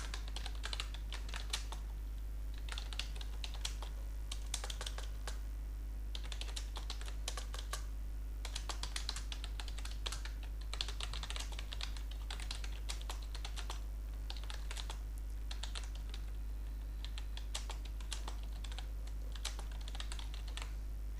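Continuous close typing on a computer keyboard while writing website text, with quick clustered keystrokes broken by short pauses under a low steady hum.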